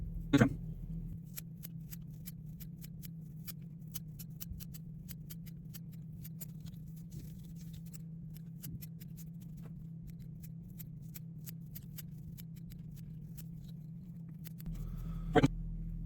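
Scissors trim a tied fishing fly, rapid faint snipping clicks in steady succession at close range over a low hum, with a couple of louder knocks at the start and end and no talk.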